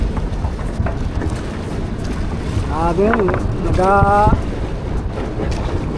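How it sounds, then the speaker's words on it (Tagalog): Strong wind at sea, with big waves, buffets the microphone in a constant loud roar, while a voice calls out briefly partway through. "tunog yung hangin sa lakas,"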